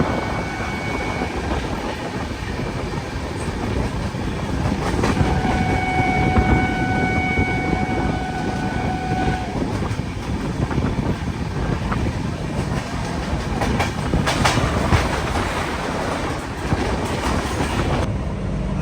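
Steady rumble of a Visakhapatnam–Gandhidham Superfast Express train running near Vizianagaram, with broadband rolling noise, faint wheel clatter and occasional squealing tones, continuous and loud throughout.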